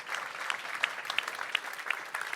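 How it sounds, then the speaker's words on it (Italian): Applause from an audience at a training-event stage in a Verona fairground hall, a soft, continuous patter of clapping with a few sharper claps popping out at a regular pace. "E un applauso anche per questo signore"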